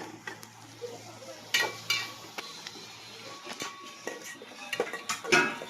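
Tomatoes frying in a pan while being stirred, with scattered clinks and scrapes of a utensil against the pan over a faint low sizzle, close by.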